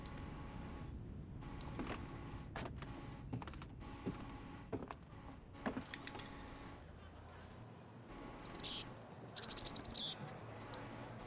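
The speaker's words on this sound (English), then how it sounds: "The lilting sound of a bird reaches the ears from above." Bird chirping from above in a night street scene of the game Reverse: 1999, a few short high calls arriving late over a quiet background with faint creaks and soft movement.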